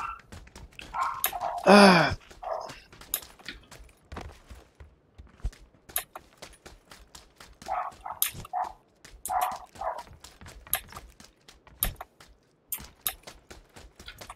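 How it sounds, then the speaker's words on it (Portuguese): A dog barks in a multiplayer video game, giving a series of short, sharp barks spread across the scene, some close and loud, others softer. A brief startled vocal exclamation comes near the start. "Cachorro."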